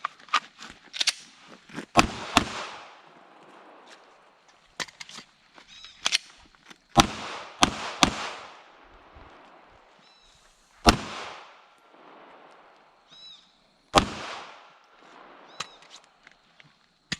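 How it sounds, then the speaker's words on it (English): Rounds left in several magazines are fired off outdoors on a range, and sharp gunshots ring out in irregular clusters and single reports with pauses between them, loud and clear with no talking. "I'll close out with firing whatever rounds are left in my magazines for you guys."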